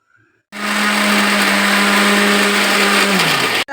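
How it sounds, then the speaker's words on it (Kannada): A kitchen mixer grinder blends roasted ingredients for ragi burfi, starting abruptly and holding a loud, steady whirring drone for about three seconds before cutting off. "ಇದನ್ನು ಅರ್ಧ ಪುಡಿಯಾಗುವವರೆಗೂ ಮಿಕ್ಸಿಯಲ್ಲಿ ಪುಡಿ ಮಾಡಿಕೊಳ್ಳಿ"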